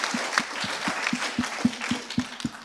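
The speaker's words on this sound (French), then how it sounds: "on vous remet votre diplôme et on les applaudit encore une fois" Hands clap in a steady, quick rhythm for graduates receiving their diplomas, about ten distinct claps in a couple of seconds, close and fairly loud, with no other voices.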